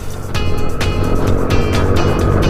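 A motorcycle engine strains uphill during an endurance ride, a loud, gritty continuous drone with rhythmic pulsing bursts close to the microphone.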